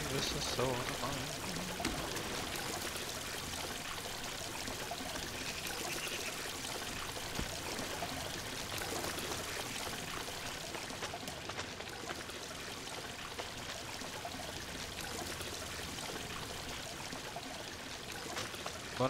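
Steady rushing water from the platform game Unravel runs unbroken and fairly loud throughout, with a voice talking over it.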